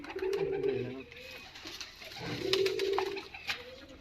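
A prized breeder's pigeon coos in two drawn-out, throaty bursts close by, with brief clicks and rustles between them in a quiet room.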